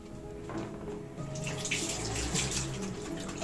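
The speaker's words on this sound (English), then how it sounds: "Wash hands thoroughly for 20 seconds using soap" Running tap water splashes steadily over hands at a sink, a continuous close wash with brief rubbing and splashing bursts.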